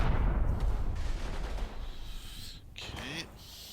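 Mortar artillery fire in a war video game set at Aachen, a heavy rumbling boom that fades into a long roll, with voices talking over it.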